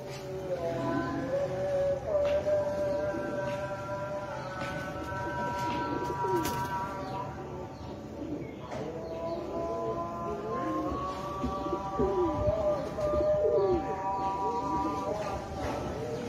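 Rare Sialkoti pigeons coo steadily in soft, rolling repeated calls, several birds overlapping at close range, with someone talking intermittently over them.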